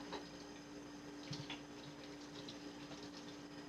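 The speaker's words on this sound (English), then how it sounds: "just trying to get the warm water" Warm water runs steadily from a tap into a sink, a faint continuous rush with a low hum, with no talking.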